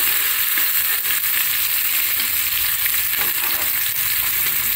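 Onions fry in a fast-cooking pan, turning brown in a hot, steady sizzle that stays loud and even throughout, with occasional stirring scrapes and no voices.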